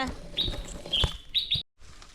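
Two baby birds in a nest inside a garden plot give high, thin chirps in short bursts, fairly close, with a brief silent gap near the end.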